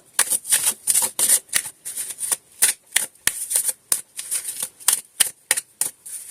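Tarot cards are shuffled repeatedly in quick, crisp riffling bursts, close and clear, with short pauses between each pass.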